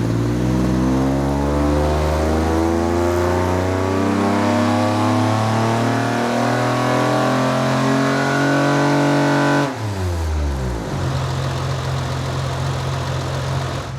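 A homemade CL9 Acura TSX Type S with two exhausts runs on a dyno without VTEC, running lean. Its loud engine holds a climbing rev for about ten seconds, then drops abruptly and settles to a rough, lower running note.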